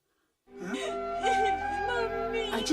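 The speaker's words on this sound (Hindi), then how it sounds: "वहाँ बच्चे के रोने की आवाज आ रही है।" A child's wailing cry rises and falls in tearful pitch glides over a sustained musical background, at moderate loudness.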